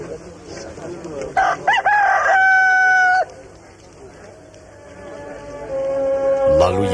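A rooster crows loudly in a long drawn-out call, followed by a second fainter crow, set in a dramatic film scene.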